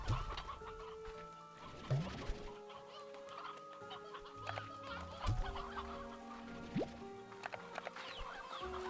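Chickens and roosters clucking in a farming video game, several birds chattering and squawking close by in a busy, continuous mix over a background music bed.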